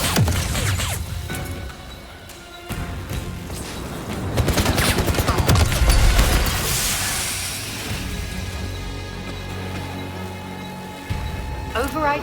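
Heavy gunfire from the 007 First Light video game, with rapid bursts and fusillades layered over explosions and mechanical clatter, loud and sustained, while game characters talk over the shooting.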